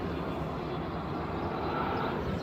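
A steady broadband roar of an airplane passing overhead outdoors in Romania, continuous and fairly distant, with no talking.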